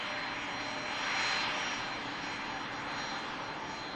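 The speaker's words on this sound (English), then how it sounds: "Regular in at Manchester, this Beach 400." A Beechcraft 400 business jet arrives at Manchester Airport, a steady, broad engine roar that swells slightly and then holds, heard from a distance with no voices.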